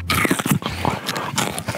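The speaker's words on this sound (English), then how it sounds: "What's half the best reason to eat a piece of celery? The crunch." Close, loud crunching bites into a vodka-infused celery stick, a dense run of crisp snaps and chewing crackles lasting under two seconds.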